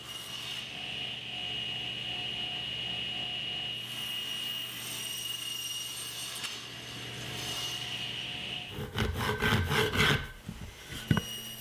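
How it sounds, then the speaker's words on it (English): Sharp chisel paring and cleaning a mortise in Douglas fir, a steady close scraping rub through most of the clip, ending in a brief burst of louder, choppy strokes and knocks. "I'll use a sharp chisel to clean up the mortise."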